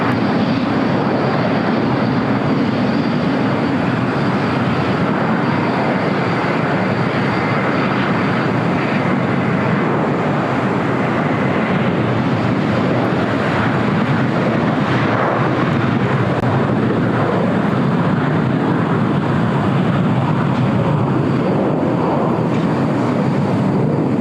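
A Super Airbus jet departs from a runway at LAX, its engines producing a loud, continuous roar that stays steady and close throughout without a break.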